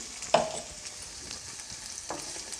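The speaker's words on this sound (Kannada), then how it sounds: "ಗ್ರೈಂಡ್ ಮಾಡಿ ಇಟ್ಕೊಂಡಿರುವಂತಹ ಟೊಮೊಟೊ ಈರುಳ್ಳಿ ಮತ್ತು ಮಸಾಲೆನ ಹಾಕ್ಕೊಳ್ತಾ ಇದ್ದೀನಿ" Ground tomato, onion and masala paste sizzling in a pan for paneer masala, a soft, steady frying hiss with a sharp clink at the start and a faint scrape later.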